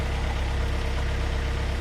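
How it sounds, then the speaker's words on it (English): A sailboat's engine idles while warming up before leaving a dock in southern Sardinia, a steady low rumble with a fine regular pulse, close and even, with no voices. "the engine's just warming up"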